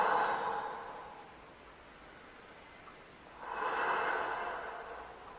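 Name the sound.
deep breaths in child's pose during Pilates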